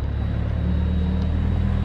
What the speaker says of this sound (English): that truck sounds like it's gonna take off